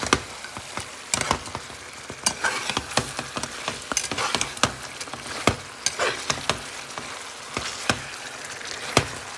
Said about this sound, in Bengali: চিকেনগুলো একটু নেড়ে ছেড়ে দিচ্ছি